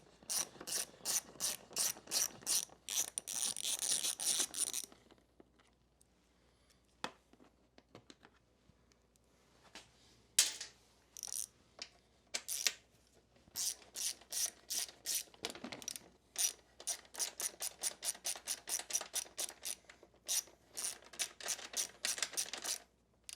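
A ratchet working out the bodywork screws on a Honda CRF250X motorcycle, fast clicking runs in several close bursts separated by pauses and small clunks of parts being handled.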